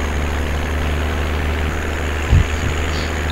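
A powerful tractor in Farming Simulator 17 idles with a steady, heavy low engine drone that holds level throughout, broken by one brief low thump near the end, with no speech.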